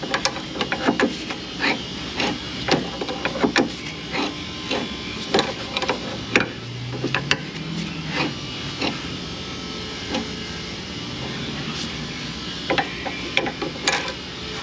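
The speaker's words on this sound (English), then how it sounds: "A little bit at a time, just keep wrenching" A hand wrench works a part tight on a 2000–2006 Chevrolet Silverado GMT800 truck with a 5.3 engine, giving repeated close clicks and ratcheting ticks in short irregular bursts over a low background hiss.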